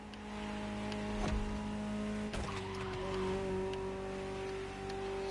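Ferrari supercar engine from The Crew Motorfest driving in Hawaii, a steady tonal drone holding under constant road noise, with brief tire-squeal transients and a shift in pitch partway through.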